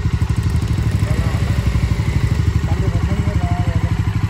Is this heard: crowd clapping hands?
no